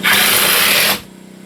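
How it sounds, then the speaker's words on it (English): A power drill drives screws through a 2x4 into plywood for a tiny home countertop, one loud close whir that lasts about a second before stopping. "lining up the 2x4 with the plywood and screwing it in place tight to the top"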